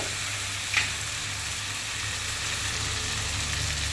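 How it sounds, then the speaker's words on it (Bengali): Taro pieces frying in hot oil for a taro-and-fish curry, a continuous close sizzle with a brief sharp clink of a utensil early on, and no voices. "তো হালকা ভাজা করে নেব"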